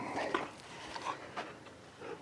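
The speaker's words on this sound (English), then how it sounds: "If I can talk between dog barks." A dog barks a few times at moderate distance on a cold morning while a man prepares to start an old Kubota tractor engine fitted to an Owatonna skid steer, the short barks spaced irregularly over faint background noise.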